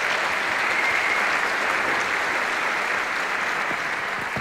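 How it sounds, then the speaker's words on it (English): Audience applause at a magic act performed with a symphony orchestra, a dense, steady wash of clapping from a large crowd that fills the whole stretch at a constant level, with no voices on top. "give her a big round of applause"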